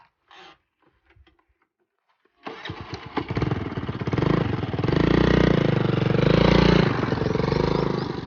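A Honda Activa scooter starts after a few faint clicks and a short silence. The engine catches with a sputter, settles into a close, loud idle, then swells with gentle revving.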